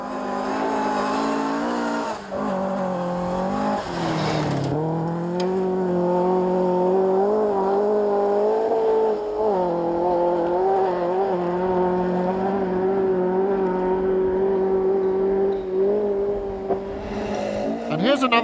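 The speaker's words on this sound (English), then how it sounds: "Culbert are in a fabulous 7th place overall, keeping those glorious Mark II escort memories alive as they disappear over the horizon." Mark II Ford Escort rally car on a stage at the 1995 Lakeland Stages Rally, engine held at steady high revs as it pulls away, with commentary talk running over it.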